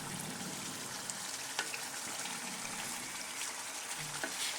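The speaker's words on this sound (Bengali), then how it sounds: "এবার আমি নেড়ে চেড়ে খুব ভালো করে চিকেন লেগ পিসগুলো কষে নেব।" Chicken leg pieces for dhania chicken stir-fried in a pan over a medium gas flame, giving a steady close sizzle with soft scraping from stirring throughout.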